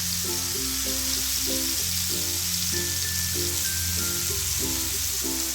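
Prawns frying in hot oil in a pan for prawn biryani, a steady, close sizzle that continues without pause beneath low musical tones.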